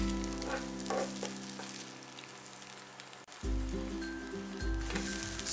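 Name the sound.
okonomiyaki frying on a griddle after being flipped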